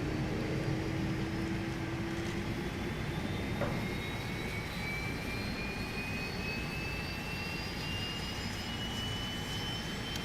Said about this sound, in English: Let's take a listen to the APU spooling up.